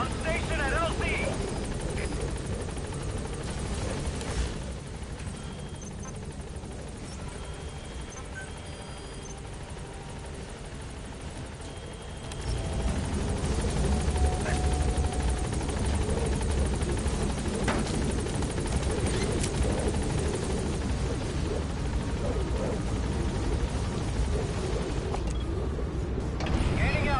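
A helicopter in a video game flies in toward a landing zone, a steady broadband rotor and engine roar that thickens and grows louder partway through, with radio-style voice chatter over it.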